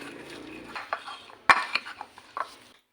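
Dried ragi yeast being crushed into powder, a few close scraping and knocking taps of a utensil against a bowl, with one sharper clack partway through.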